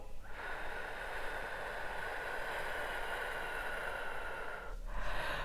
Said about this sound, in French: je vais inspirer par le nez, tout en gonflant mon ventre et en retenant un petit peu ma respiration. Puis, je vais expirer par la bouche tout doucement